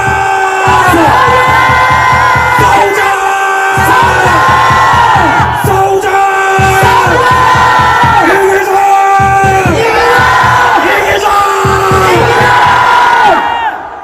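A large crowd at a prayer rally outside Dongdaegu Station roars and shouts a battle cry in repeated, rhythmic, chant-like waves, loud and sustained throughout.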